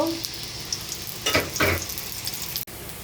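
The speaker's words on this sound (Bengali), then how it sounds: "এখন পেঁয়াজটা আমি ভালো করে ভেজে নিব" Onions, previously frozen, frying in a pan for a garlic beef curry, a steady close sizzle with two louder bursts of stirring scrapes midway, no talking.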